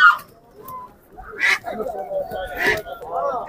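Roosters and chickens cluck and squawk in short bursts at a busy live poultry market in Sabunchu, close by, with voices talking among them.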